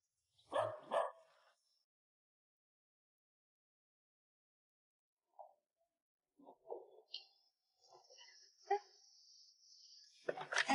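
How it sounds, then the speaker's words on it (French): A small stray dog barks and yips in short, faint bursts separated by long stretches of quiet, sounding fairly distant, with a thin whimpering tone near the end. "Ah, c'est un petit chien errant."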